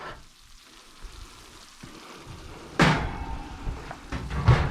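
Leek and potato casserole fresh from the oven, golden and bubbly, giving a soft continuous sizzle broken by a few close knocks and clatters of cookware.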